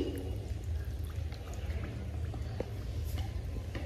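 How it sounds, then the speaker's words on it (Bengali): Water poured from above into soil around a caladium newly planted in a clay pot, a steady low gush with faint dripping and splashes running through the whole moment, no voices. "এবার এতে জল দিয়ে দিচ্ছি"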